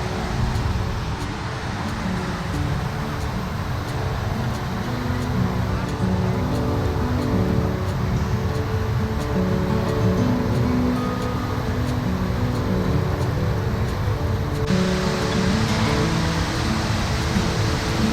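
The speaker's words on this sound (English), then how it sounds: "This is a series of 5 small falls around an island." The water of Lower Tahquamenon Falls, a series of five small falls around an island, heard as a steady broadband rush that stays even and continuous throughout, with no voices.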